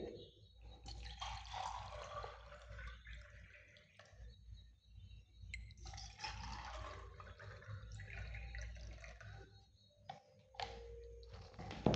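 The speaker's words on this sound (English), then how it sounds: "if we take some water in both the glasses" Water poured into two drinking glasses, coming as several splashing bursts separated by short pauses over a low background hum.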